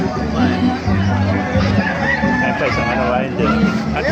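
Kanawayon and Talisay roosters, about five months old, crow at a busy market, the calls rising over chatter and a babble of voices close by.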